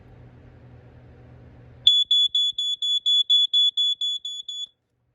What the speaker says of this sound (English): just another Code 1 smoke alarm in the collection